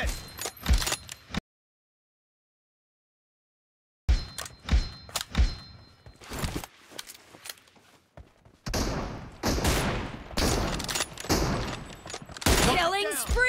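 Gunfire in the mobile shooter BGMI during an M24 sniper challenge match: sharp single shots and thuds, a brief dead-silent gap, then denser bursts of shooting toward the end, mixed with game voice callouts.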